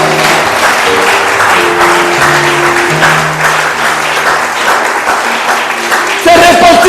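A church congregation applauding and acclaiming the Lord: dense, continuous clapping from a crowd, loud and sustained, with voices and sung notes threaded through it.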